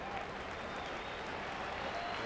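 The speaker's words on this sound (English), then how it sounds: "Felix is going to get a huge round of applause as he goes 7 2/3." Baseball crowd at an Oakland–Seattle game applauding pitcher Felix as he leaves the mound, a steady, moderate wash of clapping and crowd noise with no pauses throughout.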